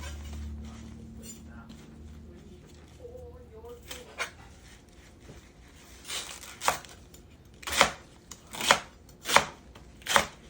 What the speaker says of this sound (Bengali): কচু পাতাগুলিকে সব ডাঁটা পাতা সব কেটে নিব